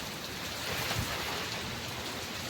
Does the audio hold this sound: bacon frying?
no